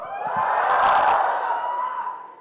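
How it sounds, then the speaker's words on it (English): A large audience at a student conference lets out a swelling cheer with whoops, rising to a loud peak and then fading over a couple of seconds. "Give me a louder cheer guys"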